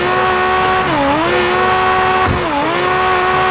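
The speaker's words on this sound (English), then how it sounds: "So especially do this techniques to burn out tires, front and rear." In the Car Parking Multiplayer 2 video game, a car does a tire burnout: a loud, sustained engine drone mixes with a tonal tire squeal whose pitch dips twice, close up and with no talking.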